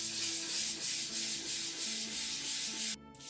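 220-grit sandpaper scuffs the surface of a resin-coated Shrinky Dink with close, rhythmic rubbing strokes, a soft continuous scratchy hiss that stops abruptly near the end.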